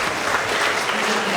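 Dense, steady applause from a school award assembly audience cheering 4th and 5th grade award winners, loud and continuous, with crowd voices blended in.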